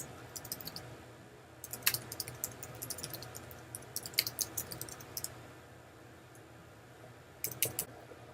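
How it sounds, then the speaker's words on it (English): Faint, scattered clicks of someone keying text into a comment field on a computer keyboard, coming in short irregular bursts with pauses between them over a low steady background hum, quiet and close. "One way to enter text is to simply key in data directly into the comment field."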